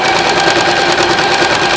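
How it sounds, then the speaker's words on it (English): Sewing machine stitching bias tape, a continuous loud motor hum with a rapid, even needle rhythm, close and alone. "I'm just gonna sew all the way down."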